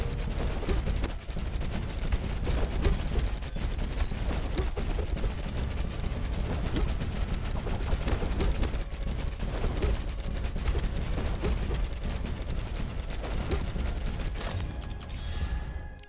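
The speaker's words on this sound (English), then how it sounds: "Another corpse explosion." Dense, continuous rapid corpse explosions and gunfire-like bursts crackle nonstop in a noisy battle in the video game Tower of Babel: Survivors of Chaos, with no clear pauses.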